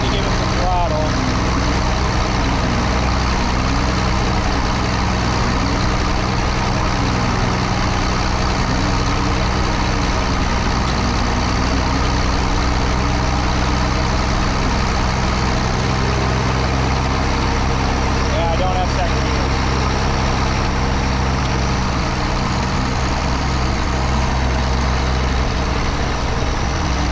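Cheap auction machine engine running steadily, loud and close, with slight throttle rises and falls over a constant rough idle-like drone; a voice speaks briefly over it.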